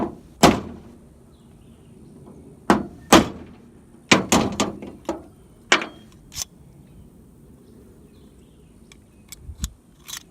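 Sharp wooden knocks and thuds from a door being hung on a goat barn, arriving as scattered single and clustered impacts separated by quiet gaps, fairly close and loud.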